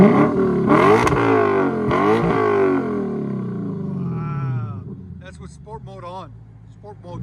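A Lexus RC F 5.0L V8 in sport mode revs hard through an aftermarket exhaust with loud, rising roars, then settles to a rumbling idle while people talk over it.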